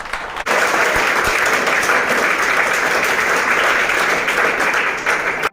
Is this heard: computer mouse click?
no